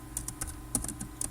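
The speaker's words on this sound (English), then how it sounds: "so I'm typing infotech inc" Rapid, irregular clicks of typing on a computer keyboard, close and clear, with keystrokes coming in quick bursts and no talking.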